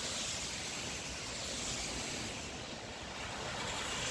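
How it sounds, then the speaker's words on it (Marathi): About 800 cusecs of water pour from the Pavana dam during flooding amid heavy rain, making a steady, roaring rush of broadband noise with no talk over it. "पवना धरणातून 800 क्युसेक पाण्याचा विसर्ग सध्या सुरू आहे"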